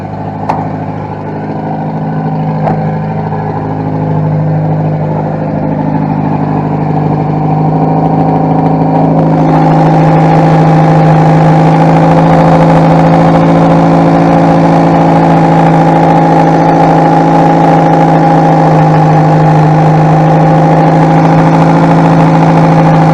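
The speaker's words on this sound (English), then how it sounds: "now you can see it kind of idling down" A car engine running steadily close by with a low droning idle that settles down, its tone shifting partway through, then holding a smooth, even hum.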